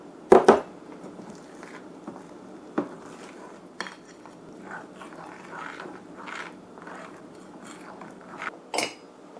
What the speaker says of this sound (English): we're going to add 1/2 cup of boiling water to the wheat starch and just mix it up